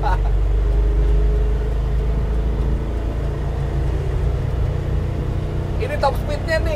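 Vehicle engine driven at full throttle: a loud, continuous low engine drone that holds steady throughout, with a brief voice near the end.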